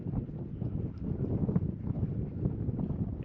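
Wind buffeting on a mountain top, a loud, irregular rush of gusts hitting the microphone, with faint rustling and scattered knocks underneath.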